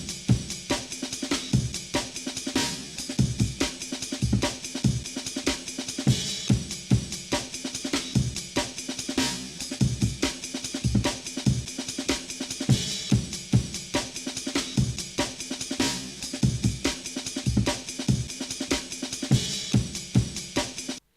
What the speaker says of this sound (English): it's going to give it that old school time stretched vibe from the original jungle days